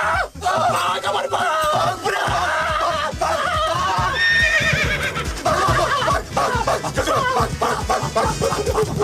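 Horse whinnying in a Hindi comedy film scene, the whinny rising over a busy, loud mix of music and scattered voices, with snickering laughter mixed in.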